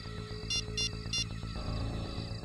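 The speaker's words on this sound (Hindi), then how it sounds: "मैं अभी सुनील को फोन लगा था।" A phone rings while a call is being placed in a Hindi horror TV serial: three short, evenly spaced electronic ring pulses over a low musical background.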